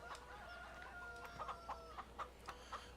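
Chickens clucking on a farm in the video game Farming Simulator 17, a quiet string of rhythmic clucks and short squawks repeating every half second or so over a low steady hum.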